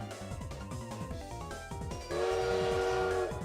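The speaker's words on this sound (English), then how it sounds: "Oh no, the train's going." A train departs in the Mega Man Star Force video game, with rhythmic chugging rail clatter under game music, then a loud sustained whistle tone joining in toward the end.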